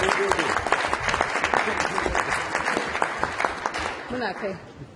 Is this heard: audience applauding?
yes